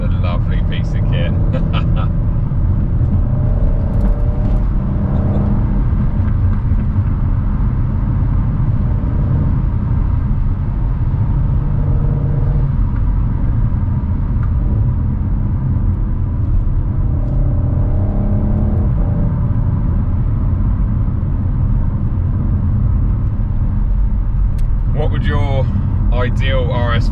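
An Audi RS4 drives on the road with a steady, low engine and tyre rumble inside the cabin throughout, and a voice speaks intermittently over the drone.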